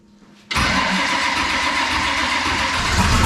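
A supercharged 565 cubic-inch big-block engine in an Olds Cutlass race car fires up abruptly after a brief quiet moment, then holds a loud, close, steady rumble for about three seconds.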